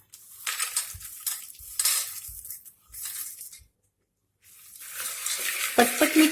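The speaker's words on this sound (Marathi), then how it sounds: "मोठ्या पसरट पातेल्यामध्ये अगदी सहज मिक्स करता येते" Farsan bhel with khari boondi being tossed and mixed in a large wide pan, bursts of scraping and rattling in short strokes with a pause midway, close and fairly loud, no talking.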